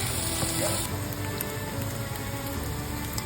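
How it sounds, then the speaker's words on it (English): Bacon frying in a pan until crispy gives a steady, dense sizzle and crackle that runs unbroken throughout, close and fairly loud. "And cook the bacon until they are nice and crispy."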